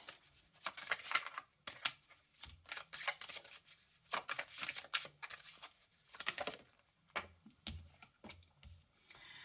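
Tarot cards riffled and slapped down in quick irregular bursts of papery flicks and soft taps, close and fairly quiet, with no talking.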